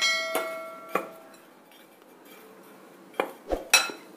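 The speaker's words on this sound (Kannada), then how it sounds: "ಕಡಲೆಕಾಯಿ ಬೀಜ, ಚೆನ್ನಾಗಿ ಮಿಕ್ಸ್ ಮಾಡ್ಕೊಳ್ಳೋಣ ಫಸ್ಟು" A spoon clinks against a bowl while peanuts and grated coconut are mixed for moong bean tambittu. A few sharp, bright clinks come close by, with quiet pauses between them.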